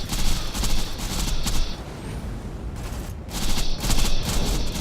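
Rapid bursts of gunfire from Maya's weapon during a Pyro Pete raid boss fight in Borderlands 2, loud and dense with a brief lull in the middle before heavy firing resumes, no talk.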